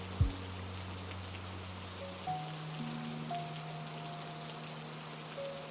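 Steady rain patters against window glass, a soft even wash running throughout with faint low tones and a brief thump near the start.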